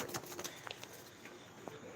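Pigeons coo softly at a home pigeon farm, low murmuring calls mixed with brief chirps and faint background clatter, fairly quiet and close.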